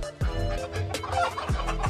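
Hens at a fighting-cock farm give a series of close, clear clucks and short squawks. Several sharp calls punctuate a busy run of chatter, with farmyard noise in the background.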